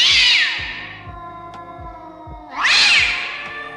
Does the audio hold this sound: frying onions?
no